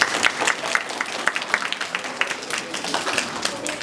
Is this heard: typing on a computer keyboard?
no